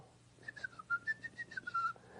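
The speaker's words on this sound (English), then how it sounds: "I can whistle" A person whistles a short, lilting tune in a single steady line of notes, quiet and close, with no talking.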